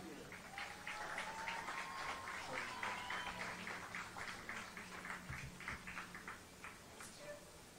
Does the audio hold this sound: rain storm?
no